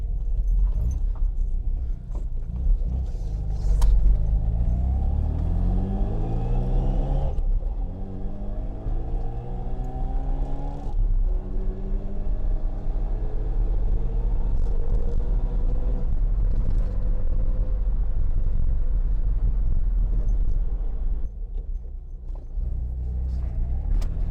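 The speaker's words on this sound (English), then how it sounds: "It's idling pretty good." A Mazda RX-7 rotary engine, low on fuel and with a newly installed fuel pressure regulator, idles steadily and close by, its pitch rising and falling in slow swells with no talk over it.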